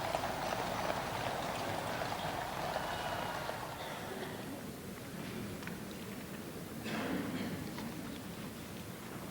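Hooves of a mounted horse guard escort clip-clop behind a royal procession through London streets, a dense distant patter under crowd and outdoor ambience with faint voices.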